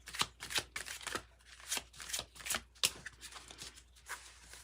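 Tarot cards are shuffled close up in quick, irregular riffling bursts of crisp papery flicks, fairly quiet, with no voice over them.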